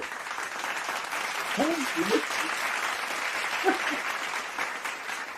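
Steady applause from a show audience welcoming a guest, a continuous wash of clapping with short cheering voices breaking through partway.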